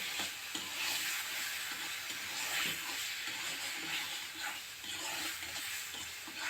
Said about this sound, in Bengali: যতক্ষণ পর্যন্ত না মশলা থেকে সম্পূর্ণ তেলটা ছেড়ে আসছে, মশলাটাকে নেড়ে চেড়ে কষিয়ে নিচ্ছি